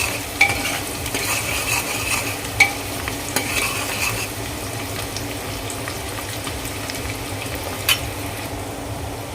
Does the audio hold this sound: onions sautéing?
yes